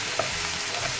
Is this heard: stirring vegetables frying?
yes